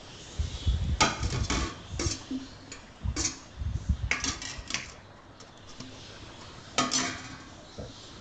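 Dry fish pieces stirred into a simmering curry in a metal pot for Sivakasi-style kulambu, giving irregular clinks and scrapes of a spoon against the pot, with louder bursts spread across and quieter gaps between.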